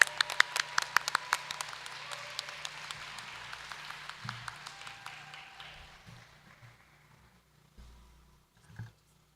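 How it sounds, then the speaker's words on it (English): Audience applause for Principal's Honor Roll graduates at a high school graduate awards ceremony, starting as dense clapping with sharp individual claps, then thinning and fading out over several seconds, with a few faint thumps near the end. "Let's give one more big round of applause for the Principal's Honor Roll."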